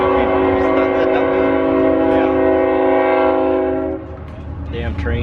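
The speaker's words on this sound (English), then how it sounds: "Damn train." A train horn blares loud and close in a long, steady sustained blast, with the rumble of the passing train underneath as the horn cuts off and the rolling noise continues.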